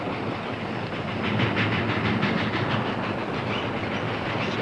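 A special train bound for Dodge City rolls along the tracks with a steady rhythmic clickety-clack over a hissing rumble. It sounds close and grows slightly louder as it picks up speed.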